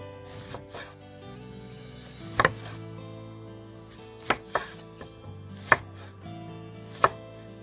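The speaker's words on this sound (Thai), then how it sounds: "เราจะมาหั่นมะกรูดเลยครับ" A knife chops through kaffir limes on a cutting board, a handful of sharp, separate thuds spaced a second or two apart, clear and close over a quiet room.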